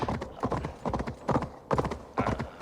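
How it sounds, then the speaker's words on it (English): Horse hooves clip-clop in a steady galloping rhythm in Assassin's Creed Valhalla, loud and close, in repeated bursts with a brief whinny-like texture, no talk over it. "Come on, horse, go! Show those Skyrim horses what you're made of."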